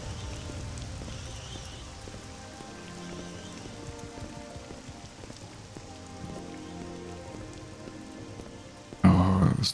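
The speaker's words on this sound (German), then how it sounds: "Sieht so aus, als wollte der Regen nachlassen." Steady rain pours in The Elder Scrolls III: Morrowind, a soft, even hiss lasting throughout with no talk, until a sudden louder burst of sound cuts in right at the end.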